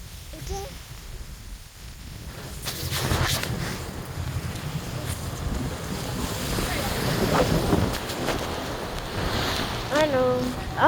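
Strong wind roars and buffets across an open microphone near water, with surf and a boat in the mix, rising steadily; a few brief voices cut through near the end.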